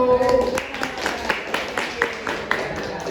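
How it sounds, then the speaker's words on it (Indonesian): Classroom applause for a student group, scattered claps sounding at moderate level with a murmur of voices in the room behind them. "Tepuk tangan untuk kelompok 1"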